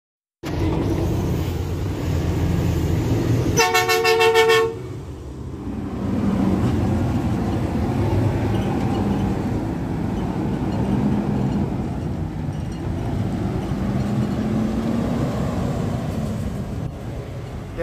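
A Waste Management Autocar Xpeditor garbage truck with a Heil body drives away, its engine rumbling steadily. A loud multi-tone horn blast sounds briefly early on, and the engine drone carries on fairly near.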